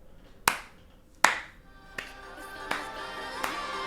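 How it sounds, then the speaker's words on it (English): Five slow, deliberate hand claps spaced roughly evenly apart, sharp and close, the first two loudest and the later ones softer, with no talking over them. "this is a very slow clap"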